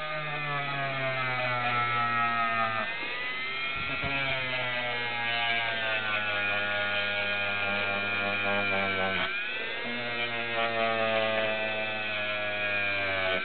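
A motorized polishing wheel working the backlock of a Spyderco knife gives a steady, loud electric whine and hum with shifting pitch as metal is pressed against it, running continuously with brief dips.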